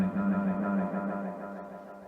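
A vintage Roland Space Echo RE-201 tape delay machine plays a sustained tone soaked in reverb and repeating echo, a droning wash that slowly fades, heard alone with no talking.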